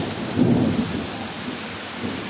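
A Kalbaishakhi storm brings a hard, continuous downpour, its dense rushing hiss rising into one deep, rumbling surge of thunder before it eases back to steady rain.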